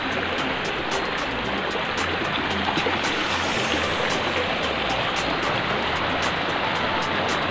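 A stream flows into a lake at a resort in Bicol, a steady moderate rushing and trickling of water throughout, with faint low rumbles beneath and no talking.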